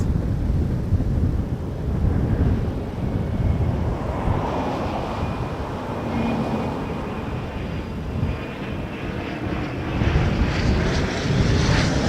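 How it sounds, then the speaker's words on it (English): An Embraer Legacy jet comes in to land at Toronto Pearson Airport, a loud steady engine roar that swells and fades slightly over wind buffeting the microphone outdoors. "Embraer Legacy coming in."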